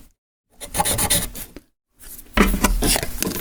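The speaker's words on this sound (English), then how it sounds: "you can use your whetstone to sharpen these tools up." Small wax carving tools are drawn across a whetstone in two close, gritty rasping passes, each about a second long, separated by brief silence.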